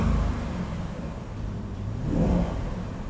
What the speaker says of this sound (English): Can I give it a quick rev?